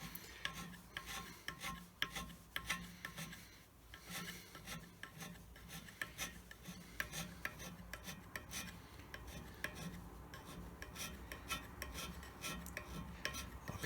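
A surface plate is hand scraped with steady, continuous rasping strokes that repeat rapidly and evenly, close and fairly quiet, with no talking.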